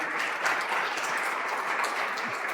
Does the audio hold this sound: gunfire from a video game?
no